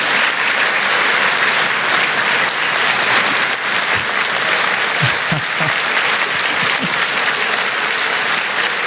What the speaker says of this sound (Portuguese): queria só uma salva de palmas para os funcionários da Caixa Econômica Federal